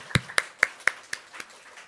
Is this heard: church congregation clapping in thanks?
yes